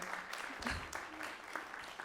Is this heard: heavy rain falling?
no